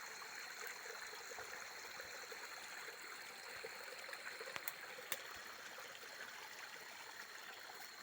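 A stream flows through a plantation, a faint, steady, even rush of water with no voices and only a couple of tiny ticks.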